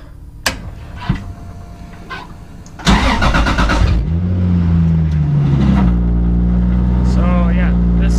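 A car with a faulty power steering rack cranks and fires up, then settles into a steady loud idle with a rising whine, preceded by a few clicks and thumps.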